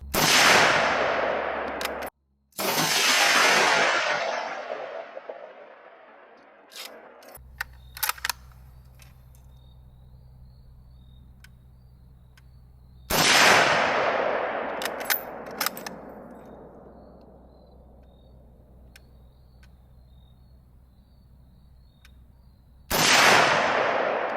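A Carcano M38 rifle in 7.35 fires at an outdoor range, four loud, sharp shots spaced several seconds apart, each ringing out in a long echoing decay, with faint mechanical clicks between them.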